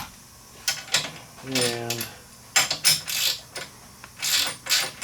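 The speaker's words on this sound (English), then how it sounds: "this is a 19 ratchet wrench" A 19 mm ratchet wrench tightens a nylon locking nut on an aftermarket ATV A-arm ball joint, giving several bursts of close, crisp clicking with short pauses between strokes. A brief word of speech is heard.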